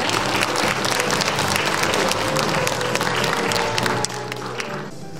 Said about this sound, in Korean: 다시 한번 감사의 박수, 또 축하의 박수 부탁드리겠습니다.